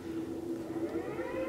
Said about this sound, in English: And the sirens are going off again.